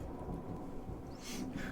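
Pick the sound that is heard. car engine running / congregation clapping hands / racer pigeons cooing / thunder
thunder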